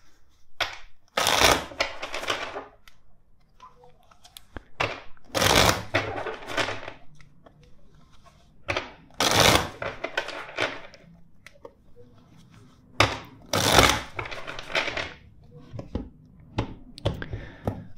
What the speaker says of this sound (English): First, let's shuffle the deck.